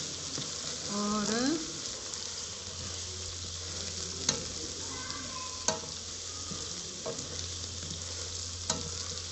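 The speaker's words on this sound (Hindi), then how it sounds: "मिर्चों को 2 मिनट भूनेंगे" Chili peppers sizzle steadily as they fry in a pan, with a few sharp scrapes and clinks of a spoon stirring them and a brief voice near the start.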